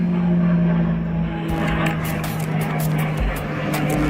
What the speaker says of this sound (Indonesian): Ini pesawat perang ini ada 2 pesawat.